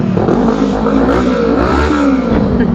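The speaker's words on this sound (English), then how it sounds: "you can have a sit on it, we'll give it a rev." A motorcycle engine at a bikes-and-coffee meet revs up and down with a loud, close, throaty roar that rises and falls steadily for a few seconds.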